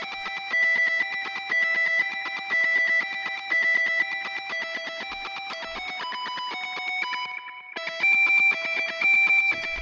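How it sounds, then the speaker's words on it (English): Distorted guitar recording in a mix of the Avengers Endgame theme plays with sustained, harmonically rich notes, where a harsh, bad resonant frequency rings steadily through the tone and shifts as the notes change, with no talk. "right here you can hear that this is a very bad resonant frequency"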